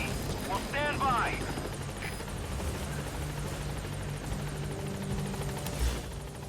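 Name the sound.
support helicopter in Metal Gear Solid V video game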